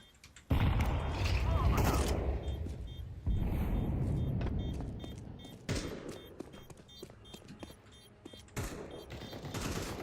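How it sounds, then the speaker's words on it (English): Grenade thrown and exploding in a first-person shooter game, a sudden loud blast followed by rumbling booms, rattling gunfire and sharp mechanical clicks fading in and out. "I'm throwing a grenade."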